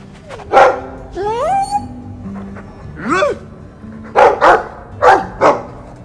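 Dog barking and yipping in the video game Dragon Age 2, several close bursts with whining, rising yelps spread irregularly across a few seconds.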